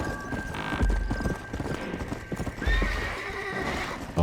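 Horse in the Red Dead Redemption video game, clip-clopping hooves with a couple of loud whinnies and snorts over a low game soundtrack hum.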